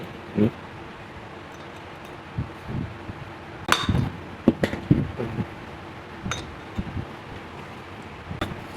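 A bearing being hammered into a wheel hub: sparse, sharp metallic strikes land irregularly, a few isolated then a closer cluster of knocks, moderately loud against a quiet workshop background.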